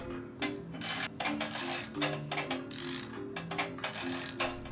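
A ratchet tightens a ball joint bracket bolt on a 2016 Toyota Tacoma during a leveling kit install, clicking in close, quick bursts of rapid pawl ticks with short pauses between strokes.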